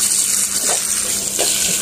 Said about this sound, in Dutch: Tadagdagan ko siya ng hot water.